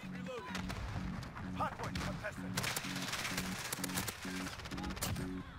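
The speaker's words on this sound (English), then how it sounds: "The bullet hose, which is just an MP7 built exclusively for putting as many shots downrange as quickly as possible" Rapid submachine gun fire from an MP7 in Call of Duty, a dense string of fast automatic shots running steadily throughout under a low, pulsing music bed.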